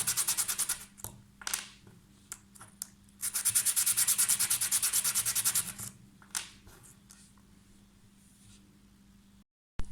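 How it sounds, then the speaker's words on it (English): A small wooden alphabet charm is rubbed back and forth across flat sandpaper, giving close, dry scratchy strokes in bursts, with one long continuous sanding pass in the middle before it trails off. "lay your sandpaper flat, grab the alphabet and rub it across the top"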